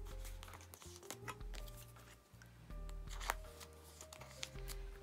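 Photocards slide and tap into plastic binder sleeves, with soft rustling and small clicks at close range. No talking.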